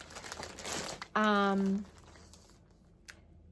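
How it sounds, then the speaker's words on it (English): Plastic packaging crinkles around a tray of felt craft pieces, a short burst of rustling close up after a brief stretch of handling noise, then fading to near quiet. "there's going to be some crinkling"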